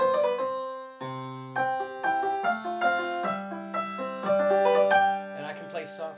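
A fortepiano tone imitated on a digital piano plays a lively run of close, clear notes with low sustained bass notes beneath and a brief scrape of noise at the very end.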